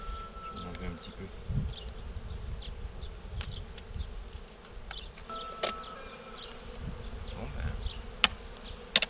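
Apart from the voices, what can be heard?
honeybees buzzing around a Dadant beehive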